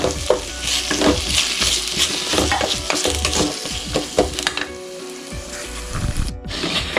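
Three slit green chilies frying in a pan for crab fry, a close crackling sizzle with busy stirring scrapes and knocks that thin out toward the end, with no voices.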